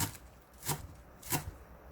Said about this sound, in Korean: 쪽파 조금 썰어줍니다.